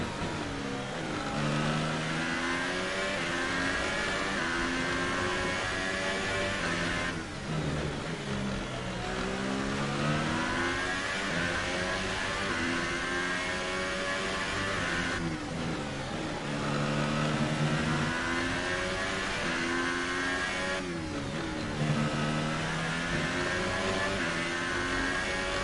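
An F1 race car engine revs in the F1 2018 video game at the Russian Grand Prix, a loud, continuous high-pitched whine that rises through each gear and drops sharply at every shift, repeating steadily.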